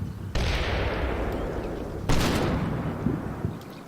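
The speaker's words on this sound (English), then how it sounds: "The mortars are still coming in." Mortar impacts and gunfire in the Combat Mission Black Sea war game: two heavy booming blasts, the second about two seconds after the first, each trailing off into a long rumbling decay, with fainter shots after them.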